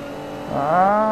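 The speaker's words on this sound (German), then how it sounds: "Ah, gib Gas, Aston Martin!" Aston Martin race car in Forza 4 accelerating hard, the engine note rising in pitch as it revs up, loud and close, alone without talk.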